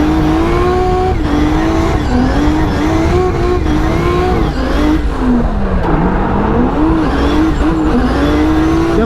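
A race car is driven hard off the line, its engine roaring loud and continuous with rising and falling revs throughout, alone without talk.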